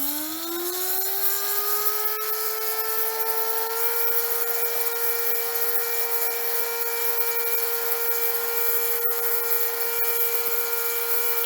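An electric motor spun up to top speed, a steady loud whine whose pitch rises over the first few seconds and then holds level, alone with no talking.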